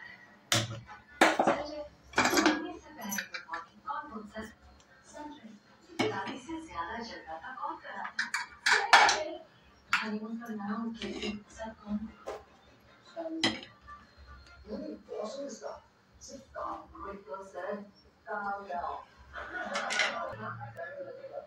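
Crushed spice mix from a mortar and pestle is moved onto a plate for masala rice, with repeated clinks and scrapes of a metal spoon against dishes, close and moderately loud, under steady talking.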